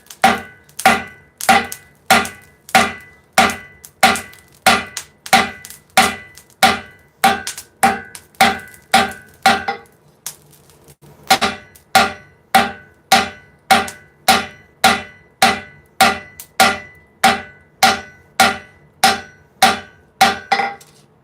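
A heavy forging hammer strikes hot metal at a forge while shaping ninja claws, sharp ringing blows falling in a steady rhythm of roughly one and a half per second, pausing briefly midway before resuming.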